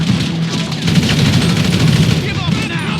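Gunfire in a video game, with dense bursts of rapid shots and booming blasts that run continuously and loudly, mixed with game noise and some voice underneath.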